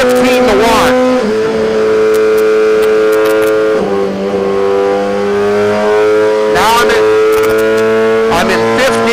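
A 2017 Suzuki GSX-R1000 motorcycle runs hard on a dyno in third gear, its engine a loud sustained whine that climbs in pitch, with sharp gear-shift dips and renewed revving.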